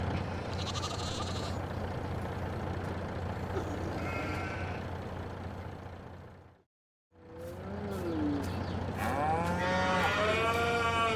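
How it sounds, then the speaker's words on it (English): Newly arrived cows in a cowshed low and moo over a steady barn hum, with one brief gap of near silence before several long, rising and falling moos close by. "the new cows are settling into their new home."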